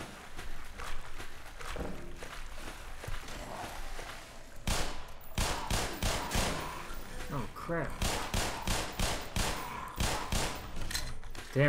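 Repeated bursts of gunfire in the shooter game Black Mesa, sharp rapid shots in clusters over several seconds with footsteps, and someone talking over part of the action.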